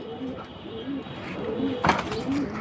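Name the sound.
pigeons cooing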